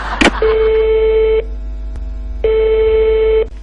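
A telephone busy tone sounds after a call is hung up: loud steady one-second beeps separated by a one-second gap, close and clear over a low line hum.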